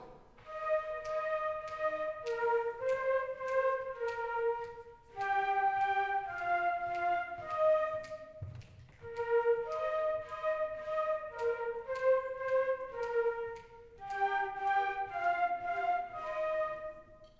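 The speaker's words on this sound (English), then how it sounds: "this is what our flutes sound like" A sixth grade school band's flute section plays a simple melody in unison, clear sustained tones in several phrases with brief pauses between them, alone without talk.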